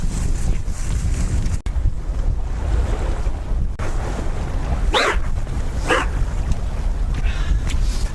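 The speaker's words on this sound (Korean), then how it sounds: "바람 겁내 분다." Strong wind blows during a fishing outing, a constant loud roar of broadband wind noise buffeting the microphone with no talk and a couple of brief brighter gusts.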